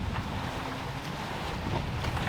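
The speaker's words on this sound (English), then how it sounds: "This is what it looks like to sail across an ocean." A sailboat crossing the open ocean toward Africa, with steady rushing wind buffeting the microphone and the low wash of water and waves along the hull, continuous and loud with no talking.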